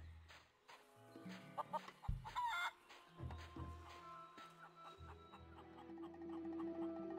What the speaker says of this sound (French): Il y a les poulets partout.